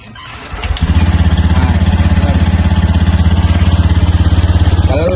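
A motorcycle with an ACG starter idles close by, its engine settling into a steady, even rhythmic putter after a brief start-up, with the idling-stop system not working.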